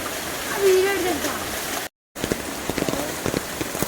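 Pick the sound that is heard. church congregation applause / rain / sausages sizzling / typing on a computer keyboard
rain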